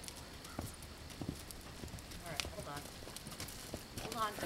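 A horse ridden bareback, its hooves clip-clopping in a soft, regular rhythm at a distance, faint under someone talking.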